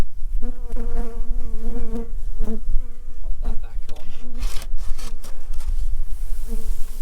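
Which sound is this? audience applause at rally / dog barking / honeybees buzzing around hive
honeybees buzzing around hive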